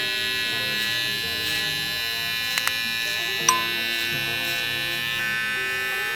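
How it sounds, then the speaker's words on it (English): Barber's flex trimmer buzzing steadily while cutting a C-shaped low taper guideline from eyebrow to earlobe, a close, constant electric hum with a few brief clicks and taps. "we're gonna set it from right here to right here in a C shape to my flex trimmer"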